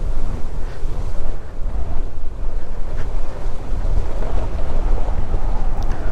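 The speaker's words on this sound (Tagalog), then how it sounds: "Lakas ang hangin dito." Strong wind on a mountain in the Sierra Madre roars and buffets the microphone in a steady, continuous rush, with no voices.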